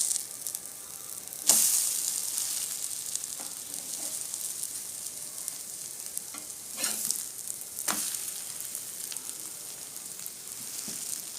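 Egg bread roast frying in a pan, a continuous close sizzle with occasional scraping and turning sounds from a spatula.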